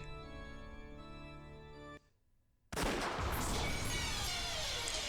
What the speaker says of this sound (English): the sound of gunfire rang out once